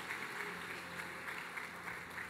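A church audience claps for a woman, faint and steady applause with a soft, even texture lasting a couple of seconds, heard from some distance.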